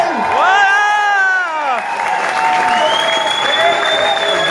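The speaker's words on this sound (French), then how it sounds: "Mesdames, messieurs, je vous invite à applaudir chaleureusement nos deux nouveaux mariés." A loud crowd at a wedding applauds and cheers for two newlywed brides, steady clapping with whoops and shouts, a voice calling out over the noise at the start.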